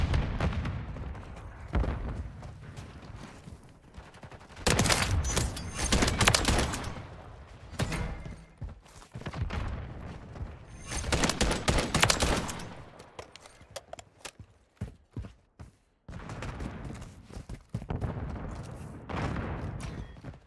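KVD Enforcer fire in Modern Warfare III comes as repeated loud bursts of rapid gunshots separated by short quieter gaps, with booming impacts between volleys.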